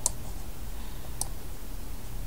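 Computer mouse clicks in design software, two short sharp clicks about a second apart over a faint steady background hum, no talk.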